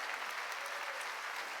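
A congregation applauds steadily at an outdoor summer revival meeting of a Korean church, a dense, even wash of clapping hands that stays loud and constant throughout with no voices over it.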